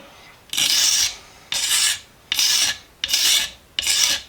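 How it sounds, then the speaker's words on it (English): A blade scrapes lacquer off the wooden handle of a brush axe in five steady, rasping strokes, each about half a second with short pauses between, close and fairly loud with no talking. "Let's get to scraping on this handle. There is a lot of lacquer on this"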